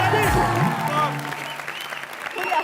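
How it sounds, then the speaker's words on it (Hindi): Studio audience applause on an Indian comedy entertainment television show, loud and sustained, with a voice speaking over it at the start. "जोरदार तालियां फॉर किलिंग"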